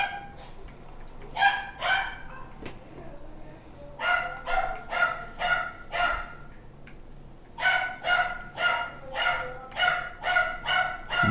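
A dog barks in rapid, sharp volleys close by, several clustered bursts separated by brief lulls, loud against a quiet indoor background.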